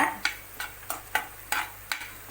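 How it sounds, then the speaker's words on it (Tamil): Sweet corn kernels are stirred in butter in a pan, with a steady rhythm of scraping stir strokes about every third of a second over a light sizzle. "அதில் கொஞ்சம் நேரம் ஒரு ரெண்டு நிமிஷம் வறுத்தா போதுங்க ரொம்ப நேரம் வறுக்க தேவையில்லை அந்த பட்டரோட ஃப்ளேவர் எல்லா சைடும் நல்லா மிக்ஸ் ஆகிற மாதிரி பண்ணிக்கோங்க"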